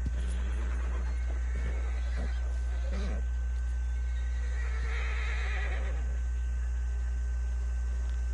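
A horse neighs and whinnies in a video game over a steady low electronic hum, with faint clip-clop and game background noise throughout.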